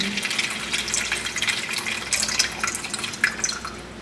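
Water runs steadily into a cat water fountain, giving a continuous close splashing and bubbling with small drips scattered through it, moderately loud, with no talk.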